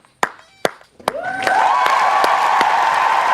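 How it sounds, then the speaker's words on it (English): A few sharp, separate claps ring out, then a small group breaks into steady, sustained clapping that continues close and even to the end. "I hope y'all heard them clap."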